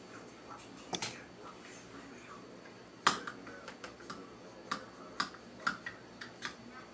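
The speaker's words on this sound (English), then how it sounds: "And here you can hear more of a clicking sound." Xbox Adaptive Controller bumpers and triggers being pressed give a series of sharp, dry clicks, about eight spaced irregularly over several seconds, close and fairly quiet against a faint room hiss.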